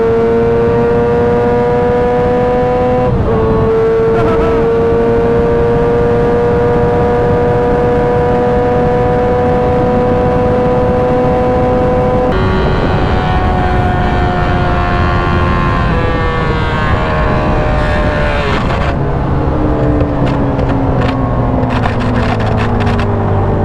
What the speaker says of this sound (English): Is it about to blow up, dude? No, the motor's blowing up.